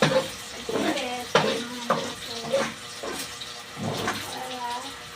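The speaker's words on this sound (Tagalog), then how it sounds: "Gigisa na natin yung bawang sibuyas" Garlic and onion are sautéed in a pan with browned pork, giving a soft sizzle broken by repeated scraping and stirring strokes. A voice talks intermittently over the cooking.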